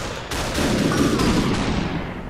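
Gunfire in SUPERhot: a dense, loud burst of rapid shots rolling together for about two seconds, close and harsh.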